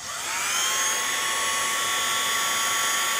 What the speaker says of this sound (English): It's a WOW heat tool, and it's got two settings.